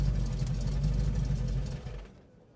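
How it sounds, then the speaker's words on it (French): A supercharged Sunbeam Tiger V8 keeps idling with a steady low rumble after the key is turned off, then sputters and dies into near silence at the end. "On regarde le temps que le moteur met pour s'éteindre."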